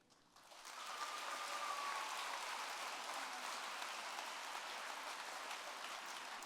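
A large audience at a Kansas FFA convention breaks into sustained applause, starting abruptly and holding as a dense, even roar of clapping with no voices heard over it.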